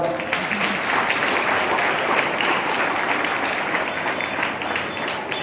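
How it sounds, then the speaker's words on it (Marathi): An audience at a prize distribution ceremony claps steadily for a teacher, a dense, sustained round of applause filling the hall without letup. "मॅडमसाठी जरा जोरदार टाळ्या"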